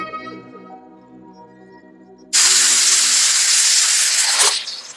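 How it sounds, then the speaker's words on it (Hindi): A pressure cooker suddenly bursts into a loud, steady hiss of escaping steam that runs for about two seconds before cutting off, following a quieter stretch of background tones. "मुझसे अच्छा तो ये प्रेशर कुकर है मालती।"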